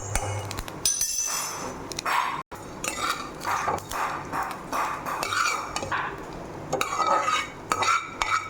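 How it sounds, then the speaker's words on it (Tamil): Nylon sago pearls frying in butter in a pan while cooking a sago, wheat flour and grape kheer, with busy close scraping, clinking and tapping of a utensil against the pan over a soft crackle. "ஜவ்வரிசி பொரிஞ்சிச்சு, அதையும் எடுத்துக்கலாம்."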